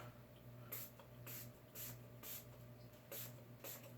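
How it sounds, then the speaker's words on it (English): Six or so short hissing spray bursts of cleaner from a pump bottle onto a Savage Axis .223 rifle, spaced about half a second apart, soft and close against a faint steady hum. "we're going to go ahead and spray down"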